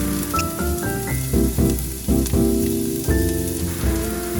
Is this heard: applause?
no